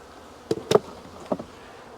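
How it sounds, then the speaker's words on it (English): Brief, faint buzzing bursts from honey bees close by at an opened hive in February, a few short passes over a quiet background. "We got plenty of bees on the inner cover."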